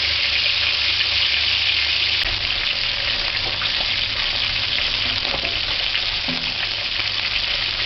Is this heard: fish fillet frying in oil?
yes